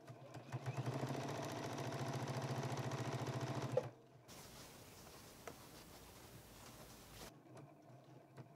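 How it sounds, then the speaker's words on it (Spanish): A sewing machine stitches fabric for an infinity scarf with a steady, rapid mechanical whir for about four seconds, then stops, leaving quieter handling sounds. "y sigo cosiendo"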